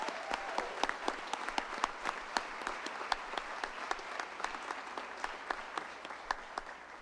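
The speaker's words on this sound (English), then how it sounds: "Big round of applause." At a Board of Education meeting honoring a coach, a small audience gives a round of applause, individual claps standing out as sharp, irregular hits at a modest level.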